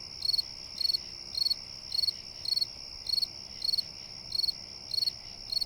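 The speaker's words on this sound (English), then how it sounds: "Crickets sure are perky." Crickets chirp in a steady rhythm of evenly spaced pulsing trills, about two per second, clear and close against a quiet background.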